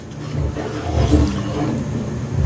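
Salted water comes to a rolling boil in a pot for making salted eggs. It makes a dense, loud, low bubbling roar that churns steadily throughout, close by.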